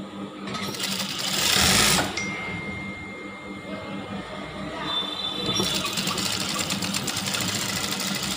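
A sewing machine stitches the hem of a simple top, whirring steadily and close with a short faster burst near the start, its mechanical hum continuing without speech.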